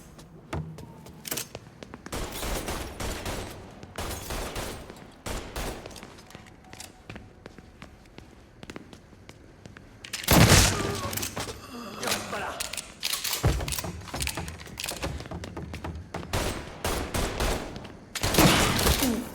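Gunfire in the video game Mafia III: repeated bursts of shooting and impacts in several loud clusters across the clip, with voices talking over and between the shots.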